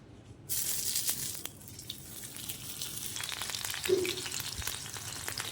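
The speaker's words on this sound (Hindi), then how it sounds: "हमारे कबाब फ्राई हो रहे हैं" Turkish kebabs fry in hot oil on a tawa over a low flame, giving a steady close sizzle and crackle that starts abruptly and runs throughout, with occasional small pops.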